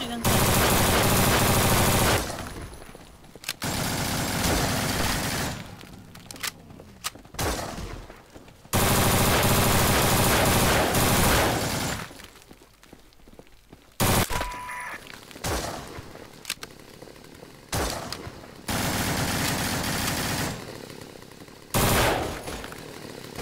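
Rapid bursts of automatic gunfire from the zombie shooter No More Room in Hell, loud and close, coming in repeated volleys separated by short gaps, with faint voices now and then.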